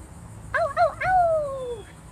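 A voice imitating a wolf howl: two short wavering yips followed by one long, falling howl, close and clear over a quiet background.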